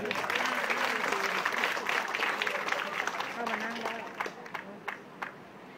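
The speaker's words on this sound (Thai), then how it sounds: "เดี๋ยววันนี้เราจะไปขอเสียงปรบมือครับ" An audience at a press conference for a Thai hula hoop project applauds in a dense burst of clapping that gradually thins into a few scattered claps, with speech mixed in.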